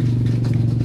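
A worn, noisy bearing on the AC compressor of a Mitsubishi Canter truck gives a steady, close, low droning hum with a fast, fine rattling tick running through it, heard briefly and alone.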